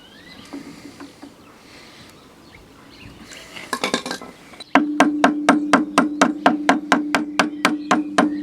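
A hammer strikes the split pins of a brake caliper on a Land Rover Defender 300Tdi. Soft handling noises come first, then a steady run of about fourteen sharp, ringing metallic taps at an even pace.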